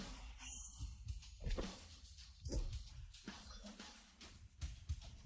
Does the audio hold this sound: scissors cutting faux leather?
no